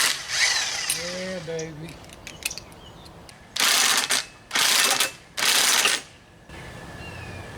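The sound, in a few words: removing parts and flywheel from a 6 hp Evinrude outboard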